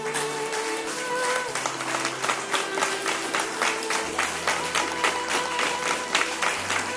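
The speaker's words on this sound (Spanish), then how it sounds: "un gran aplauso mayor todavía a la que lo ha preparado" A crowd applauds at a religious community gathering, with dense clapping that grows into a rhythmic, roughly unison beat, while a faint sustained tone runs underneath.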